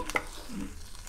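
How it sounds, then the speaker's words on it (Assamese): Potatoes frying in a pan and being stirred, a brief scrape near the start over a soft sizzle. "মই আলুখিনি ৰঙচুৱা হ'লৈকে ভাজিম"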